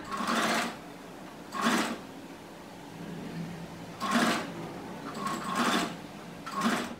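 A sewing machine stitches blouse-piece fabric for a homemade thoran in short bursts of rapid whirring needle clatter, about five or six runs separated by quiet pauses, close and fairly soft.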